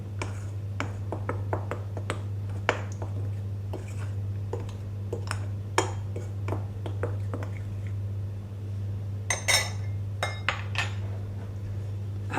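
Baking powder is stirred into flour in a bowl, producing a series of light taps and clinks from a utensil against the bowl over a steady low hum. No voices are heard.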